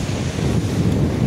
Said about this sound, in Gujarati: ફૂલ પવન આવે છે, પવનમાં મોજા પણ આવે છે.